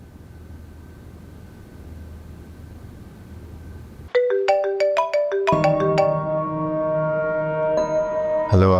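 A phone ringtone plays a bright, repeating melodic tune, starting abruptly after quiet background hiss and continuing loud and clear to the end.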